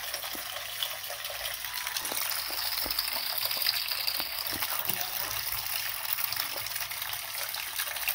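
Coconut milk squeezed by hand from freshly grated coconut drips and trickles steadily into a bowl up close, a continuous wet gush with small splashes for vegan bánh tét.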